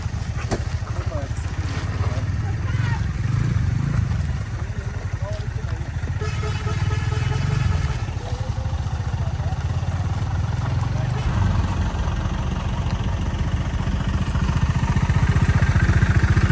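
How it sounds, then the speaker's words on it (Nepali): A vehicle engine revs and labors continuously as it drives on again after being stuck on a rough mountain road from Ghandruk toward Pokhara, loud and close, with rumbling low-end throughout and voices talking over it at times. "निक्लिएको र फसेको गाडी हो र अब जाँदैछ फेरि"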